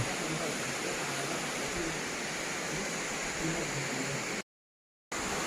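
Broadband roar of the Huai Yang waterfall in Kengtung, Myanmar, steady and loud throughout, cutting out abruptly near the end.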